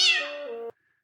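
A cartoon cat from an Animaniacs episode gives one loud, drawn-out meow that starts bright and nasal, then slides lower and cuts off abruptly, leaving silence.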